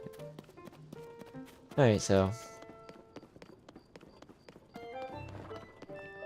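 Horse hooves clip-clopping in Zelda: Tears of the Kingdom, a light rhythmic patter running under a speaking voice and a burst of game dialogue sound.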